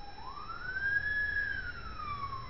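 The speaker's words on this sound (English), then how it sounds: "there's the sirens coming to get me" A single siren wails steadily, rising and falling in pitch over low background rumble, fairly distant and continuous.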